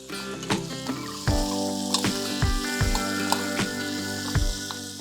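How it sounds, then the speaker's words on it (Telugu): A large, thinly sliced onion sizzles in hot oil for cumin rice, a loud, continuous crackling fry with repeated sharp pops and clanks of stirring, close by and alone. "ఒక పెద్ద ఉల్లిపాయ ఇందులో వేసి వేయిస్తున్నాను"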